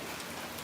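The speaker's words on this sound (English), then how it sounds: "let me know if this rain is a little too loud" Steady rain falls outside, a dense, even hiss of drops pattering on surfaces for a brief moment, with no voices.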